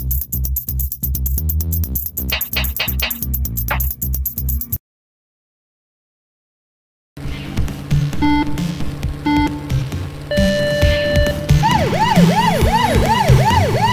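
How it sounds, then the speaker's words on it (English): A police car siren in the racing game London Racer: Police Madness wails in repeated rising and falling sweeps after a burst of game music and a short silence, loud and close over engine noise. "Congratulations. You've got a new siren."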